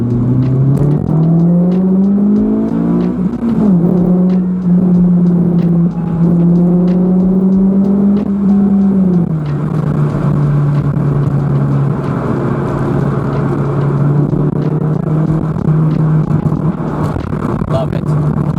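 A Honda Civic Type R FN2 engine drones loud and close on a straight with the window open, its pitch climbing and falling under acceleration before settling into a steady high cruise amid road and wind rush.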